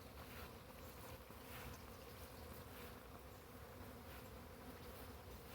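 Honeybees bringing in nectar around backyard beehives make a continuous soft buzzing drone, faint and even, with individual bees swelling slightly as they pass.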